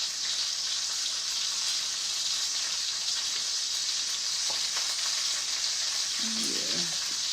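Chunks of food sizzling while stirred in a pan, a constant hiss of frying with scattered crackles, a clink of utensil and a short scraping stir near the end, no talk.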